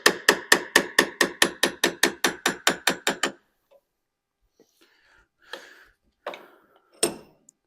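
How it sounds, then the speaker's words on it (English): About fifteen evenly spaced hammer taps drive a seal out of the front cover of a 6.0 Powerstroke diesel engine, loud and close, then stop, followed by a few scattered metallic knocks and clunks. "we just kind of want to tap this seal out of here"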